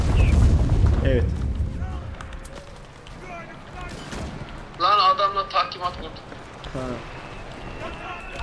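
Bomb explosion in the Enlisted war game: a heavy low boom at the start rolls off into rumbling battle noise, with several people talking over the mix throughout.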